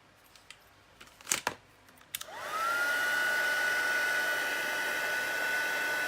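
A few quick handling clicks and taps, then a heat embossing tool switches on and blows a loud, steady hiss with a whine that rises and holds as it melts embossing powder close up.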